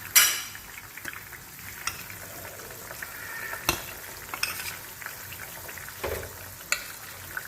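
Fish sizzles and crackles steadily in a hot pan for a mustard-paste fish curry, with a few sharp utensil clicks over the constant frying hiss and no voices.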